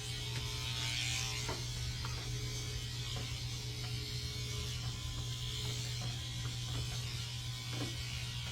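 Electric dog grooming clippers run steadily on a puppy, a continuous close buzz with a strong low hum, alone with no talking.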